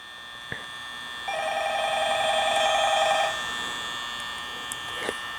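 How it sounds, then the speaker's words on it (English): A telephone rings in the video game Five Nights at Freddy's, an electronic ringing tone that swells and holds for a couple of seconds before fading, with faint clicks around it. "Can somebody just pick up the phone?"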